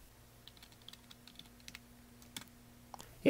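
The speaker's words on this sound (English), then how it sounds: "We type in our password." A password being typed on a Mac computer keyboard in a quiet room, light quick key clicks in an uneven run ending in a firmer press.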